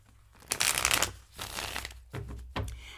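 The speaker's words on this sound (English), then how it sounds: "Let's get shuffled, and I will get to your questions." A deck of tarot cards being shuffled by hand indoors, with several bursts of riffling and soft card flutters in quick succession, fairly close and clear, with no talking over it.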